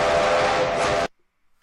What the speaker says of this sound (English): I typed in train whistle, and that's what it gave me.